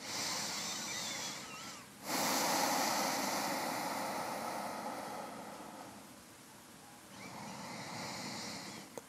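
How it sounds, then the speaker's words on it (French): Deep, slow breathing during a yoga leg stretch, soft airy inhales and exhales that swell and fade quietly over several seconds, with no one speaking. "Prenez des respirations très profondes"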